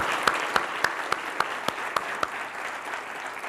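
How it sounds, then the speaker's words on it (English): Applause from a conference audience at TWIN Global 2014, an even wash of clapping with sharp, regularly spaced single claps standing out near the front. "Another round of applause."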